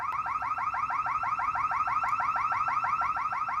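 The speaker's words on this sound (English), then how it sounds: "An alarm at the Big Lots in Temple would randomly go off overnight for the past several months." A burglar alarm on a Big Lots store in Temple, Texas goes off at night, blaring a loud, rapid, continuous warbling siren that cycles without a break.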